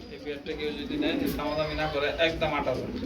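A red-check racing pigeon coos softly in bursts beneath steady, close conversation between men, the bird's calls partly buried by the talking voices.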